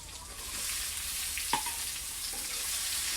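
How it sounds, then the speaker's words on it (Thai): Steady, loud sizzling of sliced cucumber stir-frying in hot oil, with a faint clink of a utensil stirring partway through. "แล้วเราก็ใส่แตงที่เราหั่นไว้นะคะ ลงไปผัดค่ะ"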